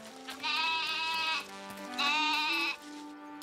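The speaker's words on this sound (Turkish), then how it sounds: "Keçi, çekil önümden," A cartoon goat bleats twice, two long wavering cries close and clear with a short gap between, alone without talk.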